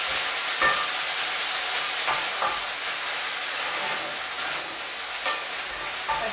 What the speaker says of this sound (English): you just need to keep stirring that to help the rice to absorb all of the stock